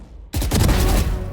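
Gunfire in a tactical shooter video game, a loud burst of rapid shots that starts abruptly after a quiet moment and stays dense and sustained, with no talking.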